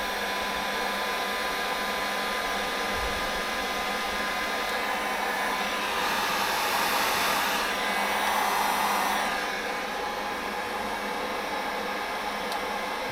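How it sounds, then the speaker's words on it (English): A heat gun blowing steadily, a loud continuous airy whoosh with a slight swell midway, close and uninterrupted, no talking. "You can see when I turn on the heat gun, it would display a voltage of about"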